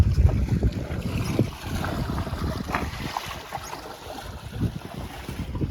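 A sailboat sailing home in light wind of about six knots, with steady wind rush, water swishing along the hull and soft wave wash close by, continuous and without voices.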